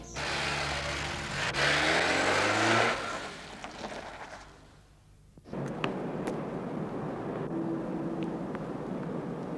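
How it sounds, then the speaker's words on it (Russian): A car is driven away from the spot: a loud engine roar and revving for a few seconds, a brief lull, then a steady, fairly close rumbling drone continuing to the end, with no voices. "Подожди, я сейчас машину отгоню."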